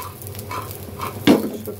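Dried taki fish frying over high heat in a pan, a steady close sizzle with soft stirring scrapes and one sharper clatter of the spatula near the end.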